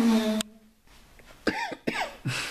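Several short harsh coughs burst out near the listener during a Samsung Smart TV darts game, with a humming tone at the start and quieter gaps between them.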